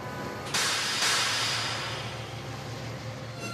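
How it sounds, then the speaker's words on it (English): Diesel engine Mavis applies her brakes at Brendam Docks on the island of Sodor, giving a loud sustained hiss of air that starts abruptly, swells again a moment later and then slowly fades, with no one speaking. "whereas Mavis's brakes sound like this."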